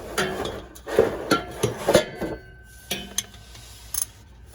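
Wrench working the 17 mm drain plug on a Subaru STI rear differential, with a string of close metallic clanks and taps, then a few sparser knocks.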